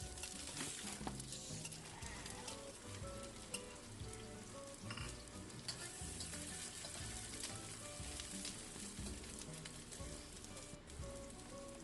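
Onion fries in a pan with a steady, moderate sizzle and crackle, joined by repeated rhythmic scraping of stirring, continuous and close with no voices.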